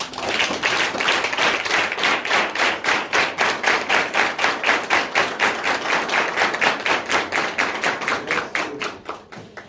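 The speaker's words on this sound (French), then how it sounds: "Applaudissez s'il vous plaît" Rhythmic unison clapping at a wedding, many hands striking together in a steady beat for nearly ten seconds, loud and close, stopping abruptly at the end.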